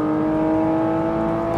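A Porsche GT4 RS engine revving through carbon intakes, a close, loud, smooth tonal drone held steady for a brief moment.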